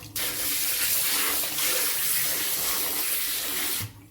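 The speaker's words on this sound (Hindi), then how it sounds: "अब फिर एक बार जो है वो हम इसके ऊपर से पानी निकाल के अच्छी तरह से हर पाए के ऊपर से" Running tap water pouring over beef trotters as they are rinsed clean: a steady, close, splashing stream for a few seconds that stops abruptly.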